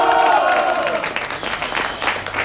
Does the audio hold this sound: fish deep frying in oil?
no